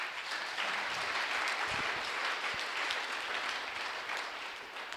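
A church congregation applauds in worship, a dense wash of clapping hands filling the room at a steady, moderately loud level for several seconds.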